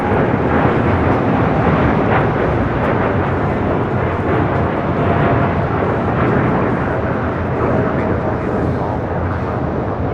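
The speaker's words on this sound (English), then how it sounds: "This is Japan Airlines Flight 69, taking off to Osaka on a 787-9 Dreamliner." A Japan Airlines Boeing 787-9 Dreamliner taking off from LAX: a loud, steady broadband jet engine roar that holds for the full stretch, heard with wind buffeting at an outdoor spotting location.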